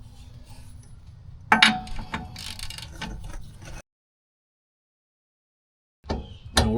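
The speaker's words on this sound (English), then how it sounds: "We're going to tighten up this bolt to 118 foot-pounds" Ratchet wrench with a 20mm socket clicking as it tightens a bolt to 118 foot-pounds on a 2025 Chevrolet Colorado ZR2 Bison, rapid close metallic ratcheting and clinks, then silence, then more brief clanks.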